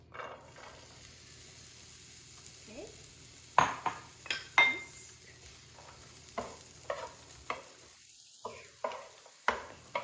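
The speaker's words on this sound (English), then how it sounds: "we're gonna put a few pieces of our onion on" Onion sizzles softly in hot oil while a utensil clinks and scrapes against the pan in a series of sharp taps, close and fairly quiet.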